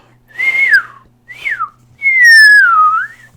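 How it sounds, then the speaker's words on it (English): A person whistles three clear notes, each sliding downward, the last one long and sustained, loud and close with silence in between. "Pretty good whistle."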